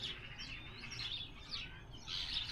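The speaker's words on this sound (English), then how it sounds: "Full of sparrows and starlings and other birds." Sparrows and starlings in a hedge give a busy chorus of high chirps and tweets, with several birds calling over a soft rushing background and no talking.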